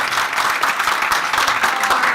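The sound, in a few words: audience applause for guests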